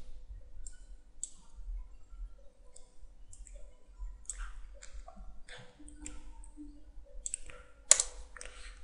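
Rapid keyboard clicks come from typing on a computer keyboard, with short bursts of taps and brief pauses, close and fairly quiet, ending in one sharper, louder keystroke.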